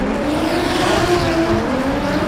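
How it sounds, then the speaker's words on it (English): A Ford-engined drift car screams at high revs during a competitive drift battle, its engine a loud, steady, sustained howl with tire noise mixed in. "making that Ford engine absolutely scream with the Z out front"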